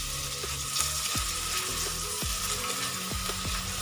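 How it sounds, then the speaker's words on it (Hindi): Brinjal (eggplant) pieces frying in a pan for an Arabian baghare baingan, a steady close crackling sizzle with a few low knocks from stirring or shifting spoons, no voices. "हमारे बैंगन फ्राई हो रहे हैं।"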